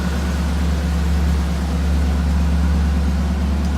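A 1972 Pontiac Firebird engine idles with its exhaust running, a steady deep low rumble with a broad hiss over it, constant and close throughout.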